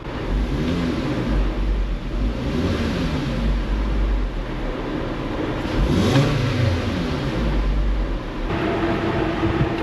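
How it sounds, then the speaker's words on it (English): Car engine revving as the gas pedal is pressed during a diagnostic check, with several rising and falling rev swells over a steady idle rumble, close and loud, no talk. "Open that up. Hit the gas a little bit."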